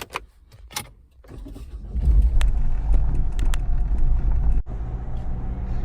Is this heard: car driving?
yes